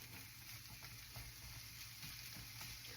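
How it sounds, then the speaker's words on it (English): Onions cook in a pan over medium-high heat with a steady, even sizzle that continues throughout, close and at moderate volume, with no talking. "I'm going to add the onion first and let that cook"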